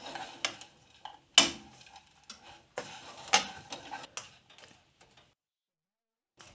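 Spoon stirring cooked onions and carrots into browned mince in a pan: a handful of irregular clinks and scrapes against the pan, close and fairly quiet, thinning out into near silence by the end.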